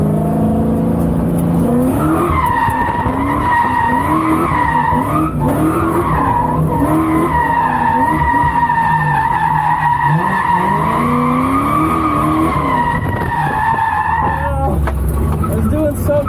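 Lexus SC400 drifting in tandem at night, tires squealing loudly and continuously in long wavering howls over engine roar, heard close from inside the car with a voice talking over it.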